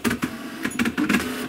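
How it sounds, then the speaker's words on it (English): Tandy color dot-matrix printer powering on, mechanical clattering and whirring bursts with short pauses as the print head and carriage move, close and alone. "I turn the printer on."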